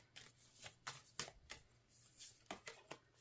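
Tarot cards are shuffled by hand in a quiet room, giving a run of about a dozen crisp riffling bursts in an uneven rhythm, close and fairly soft, with no talk.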